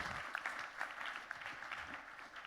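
An audience applauds a speaker at a French live event-industry broadcast, giving a steady, faint patter of clapping that stays even for a couple of seconds with no voices over it.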